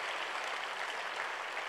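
A church congregation clapping their hands, a steady, fairly faint wash of many claps that keeps going throughout without breaks or voices.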